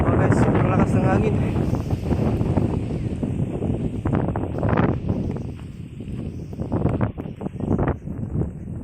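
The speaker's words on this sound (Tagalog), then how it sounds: "Oh guys, sobrang lakas ng hangin." Strong wind buffets the microphone outdoors while a kite is flown, a constant loud roar with gusty surges throughout, and people talk over it.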